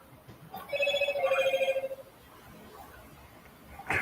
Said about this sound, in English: Phone always sounds like it's dying.